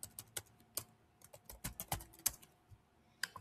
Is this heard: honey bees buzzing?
no